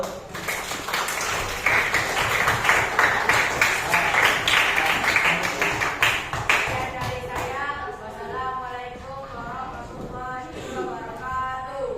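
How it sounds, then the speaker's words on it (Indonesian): A school class bursts into clapping for a group's answer, a dense burst of many hands that fades after several seconds as voices take over. "tepuk tangan dulu."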